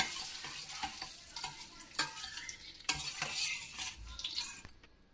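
Curd being mixed in a bowl with a spice paste and tempering, soft wet stirring with repeated scraping strokes and occasional sharp clinks of a spoon against the bowl.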